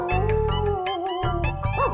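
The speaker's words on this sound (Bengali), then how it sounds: "এই রে, এই কুকুর ডাকছে।" A cartoon-style dog barks in a quick series of about seven sharp yips and howling tones, close and clear, ending in a rising whine.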